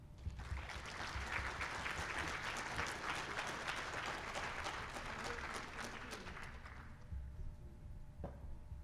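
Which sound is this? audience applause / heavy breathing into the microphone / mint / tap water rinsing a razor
audience applause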